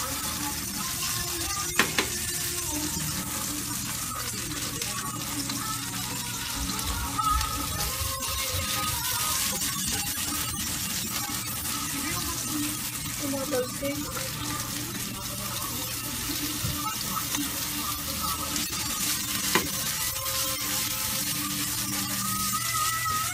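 Onion and garlic sautéing in a pan, heard as a continuous broadband sizzling hiss that holds steady for over twenty seconds, close and fairly loud, with a voice speaking at times.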